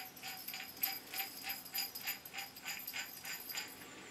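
A screw is threaded back into a cast iron six-speed midi lathe during reassembly, giving a steady run of small metallic ratcheting clicks, about two per second, close and moderately loud with no talking.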